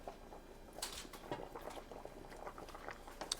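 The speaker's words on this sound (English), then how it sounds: "the soup is bubbling nicely" A pot of Jamaican chicken feet soup bubbles at a steady simmer, soft irregular pops and patters of liquid rising and bursting close by, with no voices.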